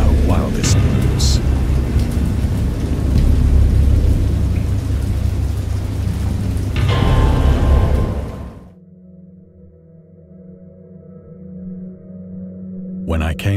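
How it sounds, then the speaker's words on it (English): Heavy rain with rolling thunder from a thunderstorm in the horror game Dagon, a loud dense roar for about eight seconds before it drops away to a quieter low hum. "I know that I heard peals of thunder and other tones which nature utters only in her wildest moods"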